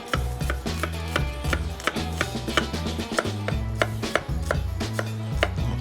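Knife chopping one small onion for spicy ramen with beef, a steady series of sharp, close chops on a board, repeating quickly over a soft backdrop of background music.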